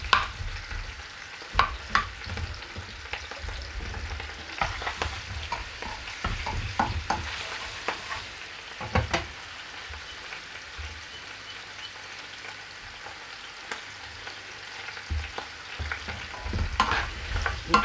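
Mushrooms sizzle steadily in a hot pan while being stirred for a korma. Frequent scraping stir strokes sound close over a constant frying hiss.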